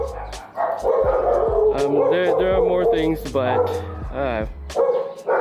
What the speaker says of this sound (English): these dogs are starting to bark at me because they don't know me